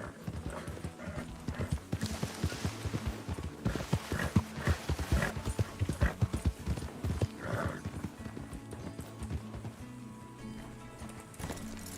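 Rapid clip-clopping hoofbeats at a steady gallop in a video game, fairly close, with a horse whinnying partway through.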